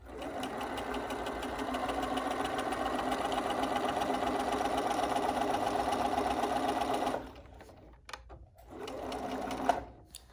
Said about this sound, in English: And now I'm going to sew down this line, and then I'm going to back stitch.